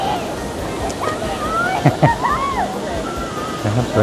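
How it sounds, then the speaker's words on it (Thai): Children splash and play in the rapids at Kaeng Din So near Hua Hin, with water sloshing and rushing around them and high young voices calling. Someone talks over the scene. "ท่านผู้ชมเห็นไหมครับเด็กกำลังเล่นกันเล่นน้ำกัน"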